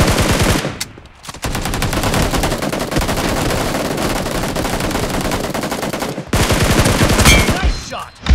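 Rapid, sustained automatic gunfire rattles close and loud in the mobile shooter BGMI during a team deathmatch, broken by a brief pause before another long burst.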